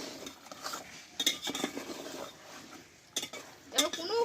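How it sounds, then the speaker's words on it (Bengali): Mutton frying with spices in a pan over low to medium heat, with repeated close scraping and clinking of a spoon against the metal pan as it is stirred, over a faint sizzle, no talk. "আমি এইভাবে আরও দশ মিনিট মতো কিন্তু মটনটা কষে নেব"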